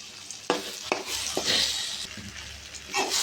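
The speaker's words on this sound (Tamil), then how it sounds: "மீதம் இருக்கிற எண்ணெயிலே நம்ம பெருங்காயத்தூள் போட்டு இதையும் வதக்கிக்கலாம்." Asafoetida powder sautéing in leftover oil in a pan for a thodukku-style relish, a steady sizzle broken by several sharp stirring knocks against the vessel, close and fairly loud, with no speech.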